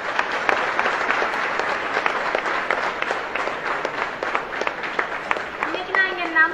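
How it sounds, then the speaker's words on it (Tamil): An auditorium audience claps warmly to welcome guests on stage at a student event, thick continuous applause throughout, with a brief voice or whistle-like tone near the end. "நம்மளோட சார்பா பெரிய கைத்தட்டலோட உற்சாகத்தோட இங்க வந்திருக்கவங்க எல்லாரையும் வரவேற்போம்"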